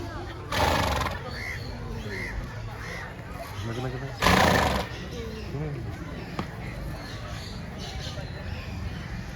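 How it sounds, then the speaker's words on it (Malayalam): A white horse on a farm villa in Chavakkad gives two loud, bursting neighs about four seconds apart, surrounded by steady chatter and voices nearby. "വെള്ളക്കുതിര,"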